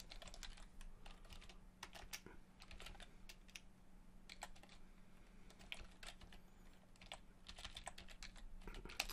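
Slow, uneven typing on a computer keyboard, with single key taps and short bursts scattered across the clip, faint and close in a quiet room.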